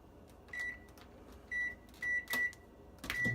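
A microwave oven gives several short electronic beeps at uneven intervals, with a sharp clunk midway and a faint low hum underneath, while melting ingredients for banana bread.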